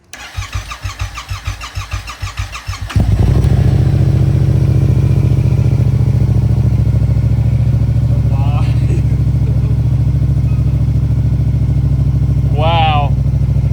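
A Yamaha R7 with a Stage 2 tune and TST Worx airbox starts for the first time after two weeks: about three seconds of rhythmic cranking, then the engine catches into a loud, steady idle with brief voices over it.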